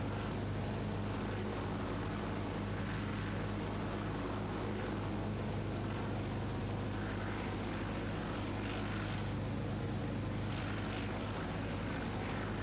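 Boeing 247D twin propeller airliner from 1935 in Microsoft Flight Simulator 2024, its engines giving a constant low droning hum with steady noise above, unbroken and even throughout.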